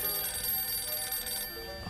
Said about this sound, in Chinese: 我来接电话。